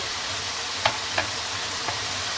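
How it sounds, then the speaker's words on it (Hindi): Chicken fries in a pan with a steady, faint sizzle, broken by three short scrapes of stirring. No one speaks. "चिकन भी फ्राई हो चुका है, इसमें अच्छी तरह से बन चुका है।"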